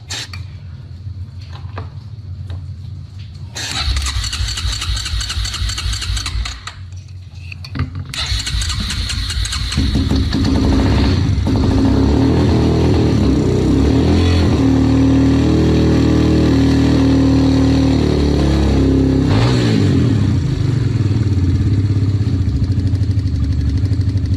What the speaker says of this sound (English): now it's idling on carb spray